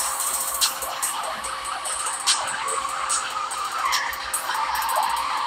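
A Subaru BRZ drifts around a corner in a race, tires squealing and skidding in repeated bursts over a steady engine drone.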